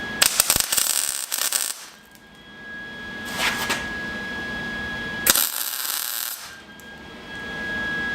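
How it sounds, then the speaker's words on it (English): MIG-style welding of bolt heads onto steel in a garage comes in crackling bursts: a long sputtering burst at the start, a shorter one near the middle and another later, with a steady electrical hum between them. "I'm gonna weld these bolt heads to this steel, hopefully."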